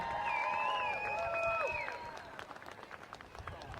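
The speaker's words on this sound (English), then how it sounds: "let's give a big round of applause to the Coyote Springs Elementary School Choir and Mr. Johnson" Applause and cheering from an outdoor holiday festival crowd for an elementary school choir, fairly faint and distant, with high cheers or whistles over the clapping at first, then scattered claps and voices.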